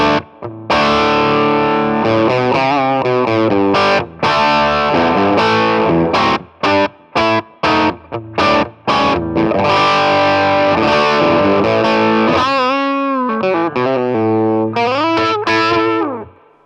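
An electric guitar with a humbucker plays through a Marshall JCM900 Studio amp on channel 1. The tone is driven and vintage, with chords and single notes that repeatedly stop and restart, some bends, and short gaps of silence between phrases.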